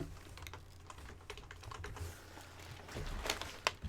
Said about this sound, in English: let me type to this guy